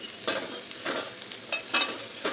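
Leftover fried crab and potatoes reheat in a pan, giving a soft sizzle broken by several rhythmic stirring scrapes, fairly quiet and close.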